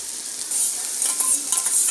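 Cabbage and onion stir-fry in a pan for homemade chicken noodles, giving a bright continuous hiss and crackle with faint scraping of a utensil across the short stretch.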